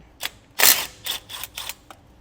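A 9/16 socket wrench removes nuts from a Dexter disc brake assembly on a fifth-wheel trailer, giving several short, sharp ratcheting bursts close by with brief pauses between them.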